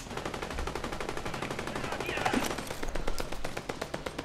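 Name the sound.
gunfire in the video game Fortnite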